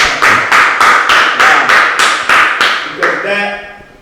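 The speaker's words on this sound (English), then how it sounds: "Missouri, I guess we got to clap it up." A few people clap along in a steady, rhythmic pattern of about nine evenly spaced beats, loud and close, during a hip hop interview in Dar es Salaam, Tanzania; the clapping ends in a brief fading ring.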